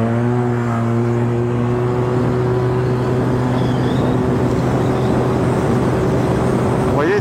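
An old Yamaha TMax scooter fitted with a turbo holds a loud, steady engine drone at high revs, its pitch fairly constant with a slight rise near the end.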